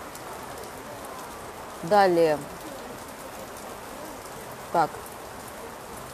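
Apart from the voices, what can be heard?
heavy rain downpour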